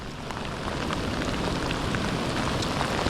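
Torrential rain pours down steadily during a lightning storm on a kayak fishing trip, a dense, continuous hiss of heavy drops striking nearby surfaces, loud and unbroken with no voices.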